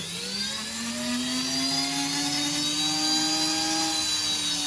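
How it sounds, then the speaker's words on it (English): A rotary tool grinds down the fused seam on a ring being sized, giving a steady high whine that rises slightly in pitch and stays loud and close throughout, with no talking. "And grind it. You don't need no file."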